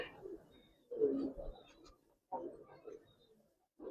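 Pigeons coo softly nearby in a few low, throaty bursts separated by short pauses.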